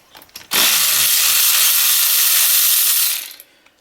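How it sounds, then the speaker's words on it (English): An air-powered auto jar ratchet spins out small 10 mm bolts on a 2009 Subaru Forester, giving one loud, close, continuous rattling hiss of about three seconds that cuts off sharply and then trails away. "Still rocking the old auto jar, whatever this thing was, auto jar ratchet for 50 bucks."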